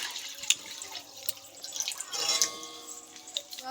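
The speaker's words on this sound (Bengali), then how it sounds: "কড়ার মধ্যে দিয়ে দিচ্ছি আমি জল" Water is poured into a wok for steaming, giving a short run of light splashes and trickling drips heard close up with no talk.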